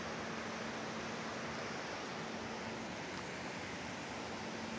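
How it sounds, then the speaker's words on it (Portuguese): Cascata do Herval waterfall in Santa Maria do Herval, a continuous broadband roar of falling water heard from a distance, steady and unbroken with no voices. "Uma queda d'água ali assim também."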